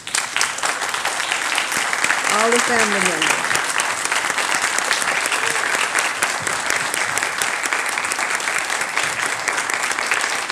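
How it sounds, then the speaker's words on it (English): A large audience at a medical school White Coat Ceremony applauds the scholars' family members, a loud, continuous roar of clapping lasting the whole stretch, with a voice speaking briefly over it near the start. "would you please stand so we can give you a round of applause?"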